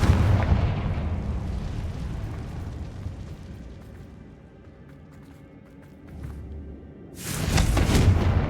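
The Confringo blasting spell in the Hogwarts Legacy video game explodes with a loud, deep boom that rumbles and fades, followed by a second heavy blast near the end.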